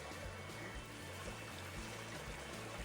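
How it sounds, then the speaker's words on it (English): Creek water runs steadily at Bad Branch Nature Preserve, a continuous broadband rush with a low churning undertone throughout, close and fairly quiet with no voices. "this creek has got some pretty good movement on it"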